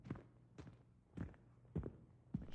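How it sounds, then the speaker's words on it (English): Footsteps in a dark room used as a horror-story sound effect, five slow, heavy thuds at an even pace, muffled and fairly quiet, with no voices over them. "I then heard from the corner of the room the sound of footsteps."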